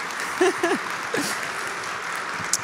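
An audience at the 2014 Minneapolis Athena Awards breaks into moderate applause, a soft patter of clapping heard under a few brief vocal sounds from the crowd.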